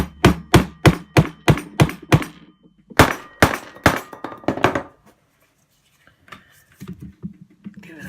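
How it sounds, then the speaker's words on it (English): Rapid series of sharp metallic hammer strikes on a Suzuki GSX600F motorcycle carburetor, about a dozen evenly spaced blows, a short pause, then quieter tapping and handling noises. "Just hammer it for a bit more."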